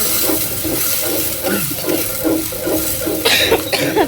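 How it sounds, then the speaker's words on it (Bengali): A person recovering from a fever and cold coughs repeatedly while cooking lentils in a kitchen, a run of close, harsh bursts over background hiss. "কাশি, হায়রে কাশি।"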